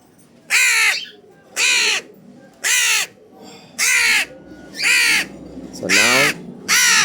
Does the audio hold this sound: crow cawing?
yes